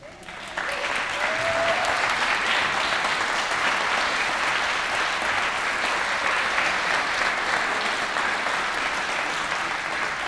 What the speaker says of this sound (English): would you all stand so we can give you a round of applause?